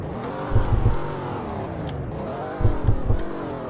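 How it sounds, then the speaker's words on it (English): A Porsche engine in the Roblox game Greenville revs twice, each a short burst of three quick throttle blips over a steady idle hum, close and loud with no talk. "Let's give it a rev."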